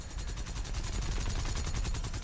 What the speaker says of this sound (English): Get some good cannon shots into him.